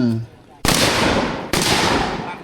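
Two loud gunshots ring out about a second apart, each with a sharp crack and a decaying echo, following a brief voice.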